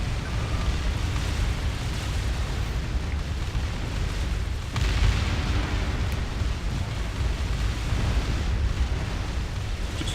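Planetary bombardment in Distant Worlds Universe: a continuous, rumbling roar of explosions, steady and heavy, with one stronger boom partway through.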